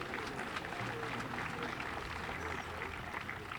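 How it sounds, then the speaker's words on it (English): Applause from a crowd at an evening outdoor municipal band concert, a sustained rustle of clapping blended with crowd noise and a voice speaking over it. "Give yourselves a big round of applause."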